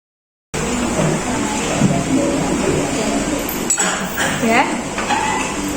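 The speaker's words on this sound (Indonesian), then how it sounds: "kita masukkan kopinya, kemudian kita aduk ya" A spoon stirs coffee in a glass, giving a few light clinks against the glass near the end over steady background noise and a faint hum.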